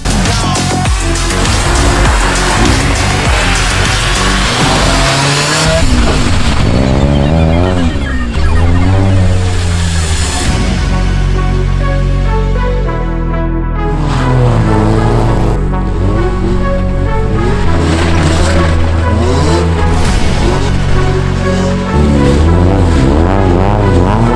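A car driven hard at a charity show event in Sanok, engine revving and accelerating loudly with shifting pitch, tyres briefly scrubbing, heard close and continuous.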